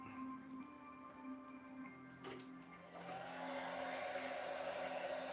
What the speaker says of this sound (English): this is my wife's old hair dryer